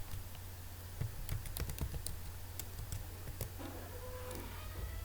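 Rapid clicking keystrokes on a computer keyboard as the Net Session command is typed, irregular taps close up over a low background hum, with no speech.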